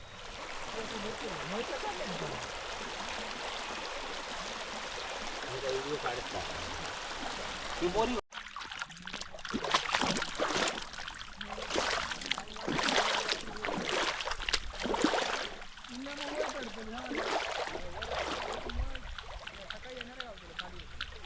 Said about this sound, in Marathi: पाणी वाहता सुरू झाला